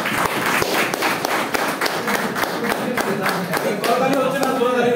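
Audience at a live business opportunity presentation clapping in a fast, rhythmic burst of hand claps, close and loud, with voices mixed in.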